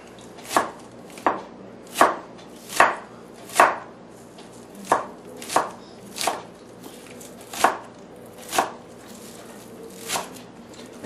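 A knife chopping green onion on a cutting board, about fifteen crisp, evenly spaced cuts at a steady unhurried pace, close and clear with no talk.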